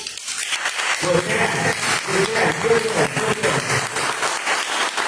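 A congregation applauds at a worship service, the clapping sustained and fairly close, with a voice talking underneath at times.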